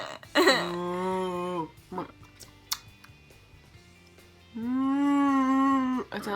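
A person imitates a cow with two long, drawn-out moos, separated by a pause with faint clicks, voiced close and fairly loud.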